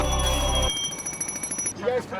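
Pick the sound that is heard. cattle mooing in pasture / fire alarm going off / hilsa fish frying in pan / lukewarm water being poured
fire alarm going off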